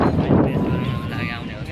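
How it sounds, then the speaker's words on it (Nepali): Gusty wind blowing outdoors buffets the microphone with a loud, uneven low rumble that runs through the whole moment. "रमाइलो छ, हावा सर आइरहेको छ गाइजहरू है।"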